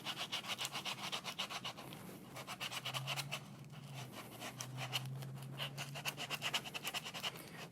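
Adhesive under an iPad battery being sawn through with a thin tool during a battery replacement; a fast, rhythmic scraping and rubbing, close and fairly quiet, continuing steadily.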